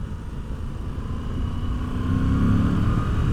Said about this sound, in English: Got a nice engine note.